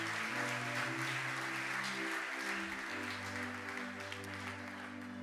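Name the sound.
congregation applauding during church service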